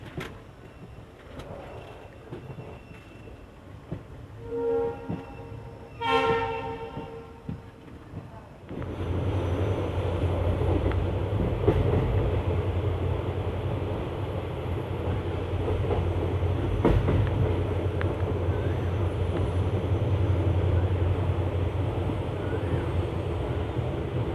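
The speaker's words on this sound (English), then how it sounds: "That would be Krishnajpuram's WDP 4D 40490 in lead for today's run." A passenger express heading from Bengaluru toward Mumbai, led by a WDP 4D diesel locomotive, rolls along the rails with a steady loud rumble and wheel clatter. A horn-like tonal burst comes early, before the constant running noise takes over.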